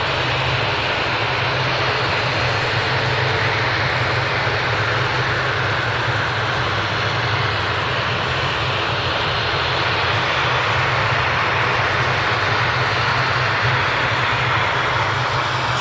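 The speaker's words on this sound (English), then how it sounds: "This ATR 72 heading out to the Isle of Man." An ATR 72 turboprop airliner departs Manchester Airport bound for the Isle of Man, its engine roar loud and constant throughout, a dense broadband drone with no talk over it.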